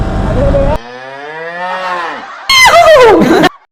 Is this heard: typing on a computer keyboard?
no